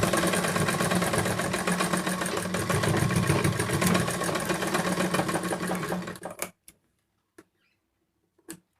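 Sewing machine stitching a homemade fabric face mask, a loud rapid mechanical whirring that runs steadily for about six seconds and then stops, followed by a few faint clicks.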